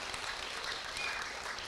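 A school audience applauds with a dense, even wash of clapping that holds steady throughout, fairly faint and without speech.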